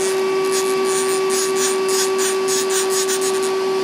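A Samsung PL10 CNC lathe whines steadily as an axis is jogged by hand wheel, with a strong constant motor tone and a faint pulsing hiss from the moving slide, and no talk.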